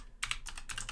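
Code is typed on a computer keyboard in a few quick bursts of crisp, close key clicks with short pauses between them.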